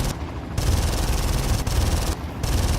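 Rapid bursts of automatic gunfire from a video game, loud and dense, sounding in two or three sustained volleys with brief gaps between them.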